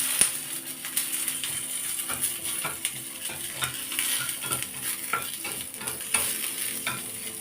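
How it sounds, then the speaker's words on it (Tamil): Green chillies frying in a little oil in a pan for ginger chutney, a steady close sizzle broken by repeated scraping and clinking stirs throughout, with no talking. "கொஞ்சோண்டு ஆயில் போட்டு ஃப்ரை பண்ணிடலாம்."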